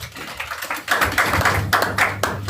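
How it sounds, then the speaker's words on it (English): Clapping from a public conference crowd, a dense run of hand claps starting about a second in and continuing steadily, fairly close and without talk over it. "Please give a round of applause"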